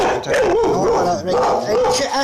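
A dog barks and whimpers close by in short, sharp yips while someone talks over it indoors.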